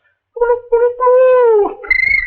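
A voice mimics birds and forest beasts, moving from a steady warbling tone to a rising, sliding cry and ending in a shrill, meow-like squeal, loud and close.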